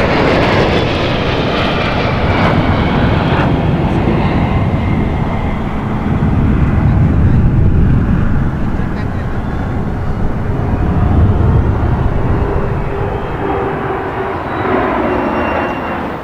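Indian Air Force Sukhoi Su-30 jets fly over the Republic Day parade, making a loud, continuous engine roar that swells and fades over about sixteen seconds. No voices are heard.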